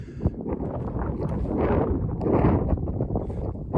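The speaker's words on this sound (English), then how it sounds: "It's a bit more windy up here" Gusty wind buffets the microphone on an exposed hilltop in the Brecon Beacons during rain, a steady broadband roar that swells in two stronger surges, with no voices.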